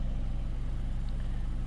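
A vehicle engine idles steadily while parked at a woodland campsite, a continuous low rumble holding even and unbroken throughout, with no other sounds over it.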